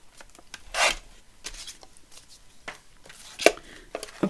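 Paper being trimmed for a Tim Holtz folio-style journal page, with a few short scraping cuts and rasps close by, spaced irregularly amid quiet handling.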